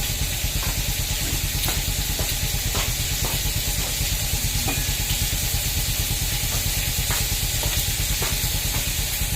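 Vegetables sizzle steadily in hot oil inside a covered pan, a loud, constant frying hiss with faint crackles and small pops scattered throughout, no voices.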